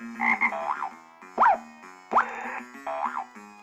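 A cartoonish frog croaks in a fast-paced video game, several short springy, rising boing-like croaks spaced in a rhythm of roughly four bursts, loud and clear with no talk.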